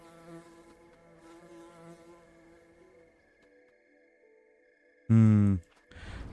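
A bee buzzing in the video game LUNA The Shadow Dust, a thin steady hum that drones on for several seconds beside soft layered game tones, followed by a short loud burst and a fainter sound at the end.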